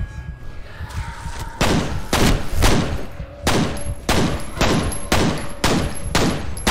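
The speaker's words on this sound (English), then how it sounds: "I'm shooting her, bro." Gunfire rings out in the first-person shooter game F.E.A.R. as a run of heavy, booming shots, roughly eight of them at an uneven rhythm, each with a sharp crack and a short ringing tail, loud and close.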